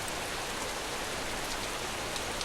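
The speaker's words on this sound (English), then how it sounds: "I just sprinted out into the rain." Steady, even rain pours down as a dense hiss with faint scattered drops, constant throughout with no voices.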